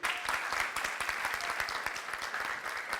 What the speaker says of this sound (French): nous allons demander beaucoup d'applaudissements pour l'application Au Calme